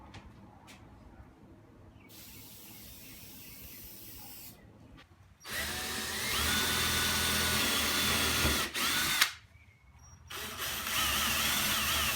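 A power driver sinks screws to fix a painted canvas into a varnished floating frame, giving short bursts of whirring motor and ratcheting with quiet pauses between runs, close and fairly loud, no voices.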